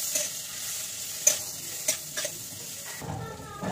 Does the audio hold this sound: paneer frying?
yes